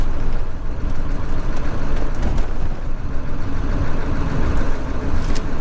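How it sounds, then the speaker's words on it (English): A steady, rumbling Ford 7.3 Powerstroke diesel engine drones on continuously, with a faint whistling whine from its turbocharger riding over the low roar. "I like the noise of the turbo"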